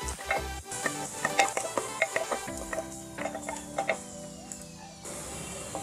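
A spoon stirs okra curry with curry leaves in a hot pan, scraping and clinking in irregular strokes over a soft sizzle, up close with no talk.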